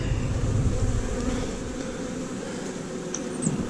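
Honeybees buzz steadily around an open hive during an inspection, a dense, continuous drone close by with a low rumble underneath and no voices.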